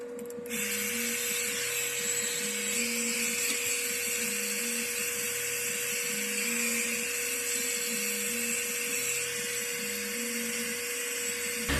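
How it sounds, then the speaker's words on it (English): A hair dryer blow-drying a lace front wig runs as a steady, loud motor whine and airy rush, continuous and alone for the whole stretch. "I'm just blow drying and then"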